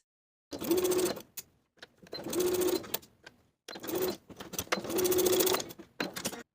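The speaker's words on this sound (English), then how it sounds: "Baste the pleats and the one side of your placket in place." Sewing machine basting pleats and one side of the placket on a shirt jacket, running in four close bursts of steady whirring, each a second or two long, separated by short pauses.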